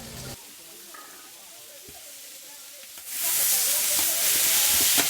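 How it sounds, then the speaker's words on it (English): Quiet, faint crackling gives way to a louder, steady hissing sizzle of meat over hot coals that continues to the end, with no voices. "It's still sizzling."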